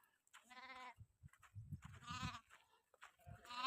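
A flock of sheep bleats in repeated close, loud calls, one after another, with a few soft thumps of movement between them.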